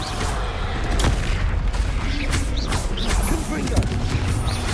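Expelliarmus spell cast in the video game Hogwarts Legacy, a dense run of booming blasts and crackling impacts with whooshing spell effects layered over busy game noise, under spoken voice.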